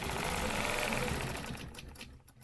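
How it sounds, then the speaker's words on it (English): A sewing machine stitches a line at a quick, even mechanical clatter, running steadily at low volume before slowing and fading near the end. "Now I'm going to stitch this line."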